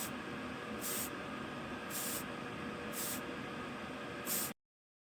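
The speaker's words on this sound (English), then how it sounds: "The bangle is temporarily removed from the frame so I can spray a mold release on it." Mold release sprayed from an aerosol can onto a 3D-printed bangle for jewelry casting, in four or five short, bright hissing bursts separated by brief pauses, close and moderately loud.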